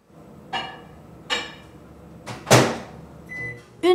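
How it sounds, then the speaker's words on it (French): A microwave oven in a kitchen, heating meatloaf for five minutes, gives a few sharp clicks and knocks from its door and controls, then a short beep and a final loud clack. "Je vais le mettre au micro-ondes pour 5 minutes."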